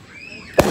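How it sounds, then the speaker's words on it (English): A rising whistle streaks upward, then a single sharp, loud firework bang bursts close by in a residential neighborhood, followed by a brief crackling tail. "I used to seeing fireworks this close up."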